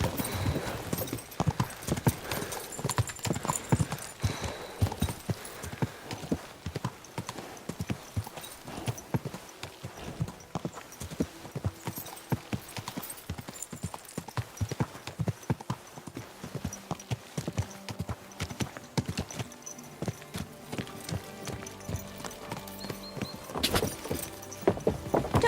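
Horse hooves clip-clop steadily in the medieval video game Kingdom Come Deliverance 2, close and continuous, with occasional whinnies, jangling tack and background game ambience.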